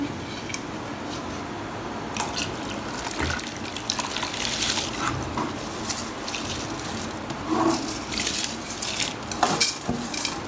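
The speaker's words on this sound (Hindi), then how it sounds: "अब हम डालते हैं इसमें चावल सारे।" A kilogram of rice is poured into a pot of boiling water, giving a close, shifting rush of grains and splashing water with scattered clinks against the metal pot, continuing for about ten seconds without talk.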